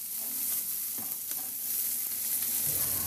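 Onions sautéing in a pan, a continuous close hissing sizzle with a few soft stirring knocks, no voices.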